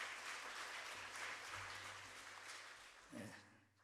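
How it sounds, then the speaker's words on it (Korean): A church congregation applauds its choir, a faint, distant hiss of many hands clapping that stays fairly even and then fades out. "우리 박수로 한 번 더 격려하겠습니다"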